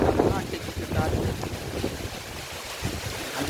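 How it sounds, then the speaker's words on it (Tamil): Strong wind gusting during rain in Tiruvarur district, a broad, rough roar buffeting the microphone steadily throughout, with no clear voices. "நல்ல காற்றும் அடிக்குது, மழையும் பெய்யுது"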